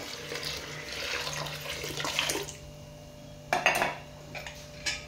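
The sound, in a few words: water being poured into spinach dal mixture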